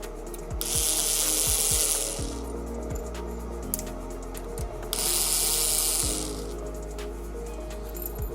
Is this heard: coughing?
no